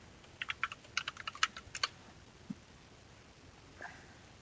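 Quick, light typing on a computer keyboard while writing a devlog: a short burst of a dozen or so soft clicks in uneven rhythm, then a lone tap and faint rustle, all quiet and close.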